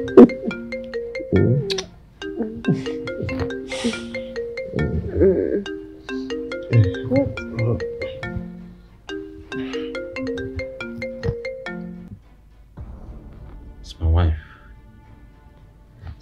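A mobile phone ringtone plays a repeating melodic tune in bursts with short gaps, close and clear, while people talk around it.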